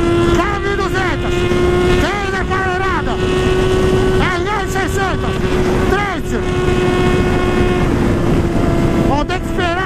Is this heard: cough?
no